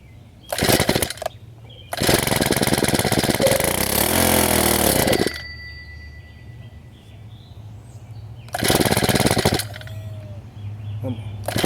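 Shindaiwa T344 string trimmer engine being started: two loud bursts of small two-stroke engine noise, one short and one longer lasting about three seconds, then a third burst later, with quieter outdoor background and faint birds between.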